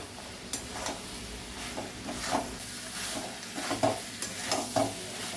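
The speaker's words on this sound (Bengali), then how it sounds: "সবটা এবার ভালো করে আরেকটু কষিয়ে নিয়ে তারপরে জলটা দেব।" Spices and raw rice fry in a pan for a rice and pointed gourd curry, a steady close sizzle punctuated by repeated scraping stirs of the spoon, with no voices.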